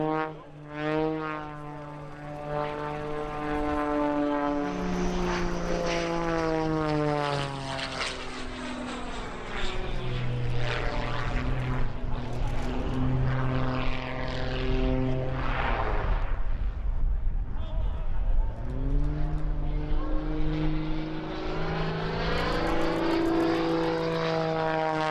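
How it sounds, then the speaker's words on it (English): A propeller aerobatic airplane flown by Sean D. Tucker at the EAA AirVenture Oshkosh 2018 air show, its engine droning loud and close, rising and falling in pitch as it swoops and passes, with no talk. "the conventional aerobatics of Sean D. Tucker look rather ordinary"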